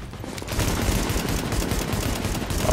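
Gunfire in The Division, a loud sustained burst of rapid automatic shots hammering one after another as an enemy keeps shooting at the same cover, dense and continuous for a couple of seconds.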